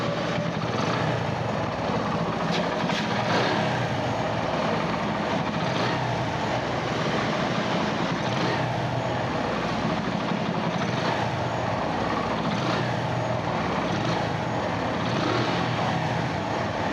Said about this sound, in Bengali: এক কিকে কিন্তু বাইক স্টার্ট